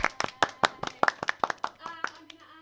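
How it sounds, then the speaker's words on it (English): Scattered hand claps from a small group following a game session, sharp uneven claps that thin out toward the end, with faint voices underneath. "Can we have a round of applause for our players?"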